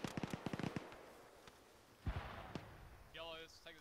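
Heavy gun firing in the ArmA military game, a quick run of sharp shots followed by a few scattered thuds and booms, with a brief voice near the end.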